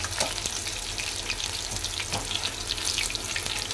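Soybean pakoras deep-frying in very hot oil, a dense, bubbling, crackling sizzle that holds steady the whole time, with a few soft clinks, close and continuous with no speech.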